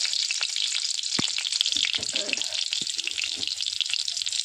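Two green chillies frying in hot oil in a wok give a steady, close sizzle, broken by a few sharp pops and the clatter of stirring.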